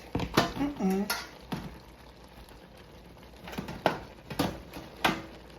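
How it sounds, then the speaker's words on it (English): Pork neck bones dropped into a cooking pot for old-fashioned collard greens, giving several knocking clunks and metallic scrapes against the pot, with a voice speaking briefly. "Now I'm gonna put my neck bones in here, over here."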